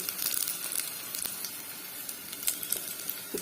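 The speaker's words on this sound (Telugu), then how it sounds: "పోపు అయితే ఫ్రై అవుతుంది" Steady crackling sizzle of a spice tempering frying in hot oil, close and continuous with sharp pops scattered throughout.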